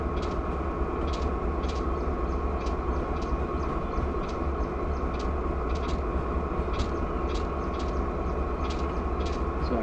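Norfolk Southern NS 5244 train in Train Simulator at Salisbury Yard, a steady loud locomotive rumble and hum that holds throughout, with faint regular clicks ticking on top.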